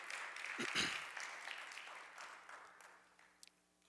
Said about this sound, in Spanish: ¿Cuántos pueden dar un aplauso al Rey, hermanos?